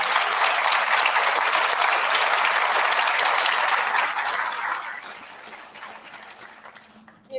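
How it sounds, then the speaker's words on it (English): An audience gives sustained applause for Empire State Development leaders at a GlobalFoundries funding announcement, dense clapping that holds steady and then fades out over the last few seconds. "Let's give them a round of applause as well."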